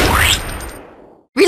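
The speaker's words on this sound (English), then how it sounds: "Reloading." Weapon reloading in a sniper video game: a quick sliding mechanical swish and rattle that fades out, a short silence, then a sharp metallic click-clack at the end.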